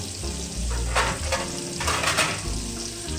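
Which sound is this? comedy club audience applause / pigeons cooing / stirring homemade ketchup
stirring homemade ketchup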